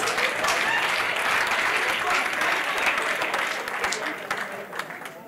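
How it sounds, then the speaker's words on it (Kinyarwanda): Dense, steady applause from a large audience at a comedy show, broad and continuous, easing slightly toward the end, with some voices mixed into the clapping. "Amashyi menshi cyane kuba diaspora."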